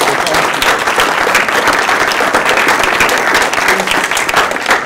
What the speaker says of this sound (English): I would like everyone to just give him a round of applause because he's at the Accelerator